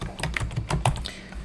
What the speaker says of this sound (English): let's just type a word